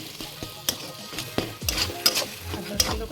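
Fish coated with turmeric, salt and a little Kashmiri chilli powder is stirred in a pan, giving a series of close, uneven scraping and clattering strokes with a faint sizzle underneath and no voices.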